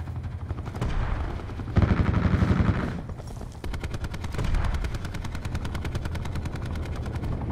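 Gunfire and explosions in a Call of Duty Black Ops 4 hardcore team deathmatch, with rapid automatic bursts and a heavy rocket-launcher blast rumbling loud and close throughout, with no voices.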